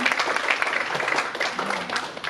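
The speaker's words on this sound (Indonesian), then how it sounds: "Tepuk tangan buat Tuhan." A church congregation claps and applauds steadily for a couple of seconds, dense and fairly loud.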